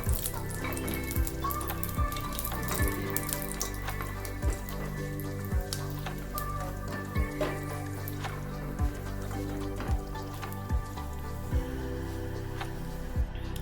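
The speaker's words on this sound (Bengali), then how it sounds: "তার মধ্যে কাজু কিশমিশগুলো ভেজে তুলে নিতে হবে" Cashews and raisins sizzling gently in ghee over a low gas flame, a soft steady crackle and spatter with faint irregular clicks and taps from a pan or spoon, no talking.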